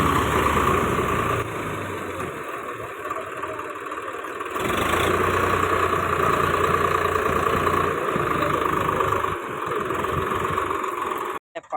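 A heavily loaded tractor carrying about 200 sacks runs with a steady, loud engine drone throughout, briefly easing mid-way and dropping out at the very end.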